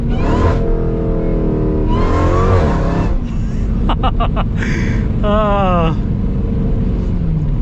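Supercharged Hellcat V8 of a Jeep Grand Cherokee Trackhawk revving hard, a loud continuous engine roar with rising and falling pitch sweeps filling the whole stretch from inside the vehicle in Mexico.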